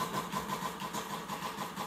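A motorbike engine in Fortnite turns over and settles into a steady, pulsing mid-pitched idle, close and fairly loud, with no speech over it.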